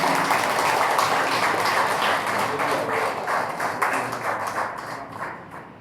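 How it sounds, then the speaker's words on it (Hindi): Audience applause at a Hindi-language 75th Amrit Mahotsav celebration ceremony, a dense steady crowd clapping throughout that gradually thins and fades toward the end. "तालियां बजती रहें।"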